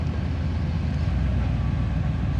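A 1989 Camaro IROC Z28 engine idles with a steady, low, continuous rumble at moderate level, with no voices over it.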